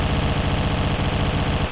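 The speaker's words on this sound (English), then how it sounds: "Stop shooting at me." Rapid automatic gunfire in Garry's Mod rattles in a loud, continuous burst of closely spaced shots, close up and alone, cutting off abruptly at the end.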